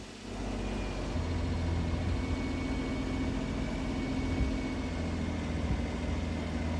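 A kei van engine idles at a low, steady hum that holds unchanged for several seconds, close by and fairly quiet, with no voices.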